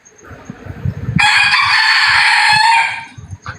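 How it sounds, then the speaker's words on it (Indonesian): A rooster crows loudly and close by in one long, sustained call that rises after a stretch of low murmuring background noise, then fades away with the murmur returning. "Suara ayam kedengeran Bang."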